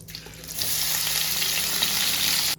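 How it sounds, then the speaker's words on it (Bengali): Paneer fries in hot oil, the same oil just used for taro, with a loud, steady sizzle that starts abruptly and cuts off near the end, close up and without talking. "এবারে পনিরটাও ভেজে নেব।"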